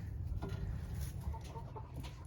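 Hens clucking softly close by, short irregular calls over a low rustling background hum.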